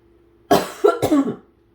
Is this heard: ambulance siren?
no